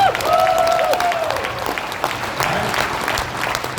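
An audience at a motivational speaking event gives a round of applause, a close, steady burst of clapping with some brief vocal sounds mixed in at the start.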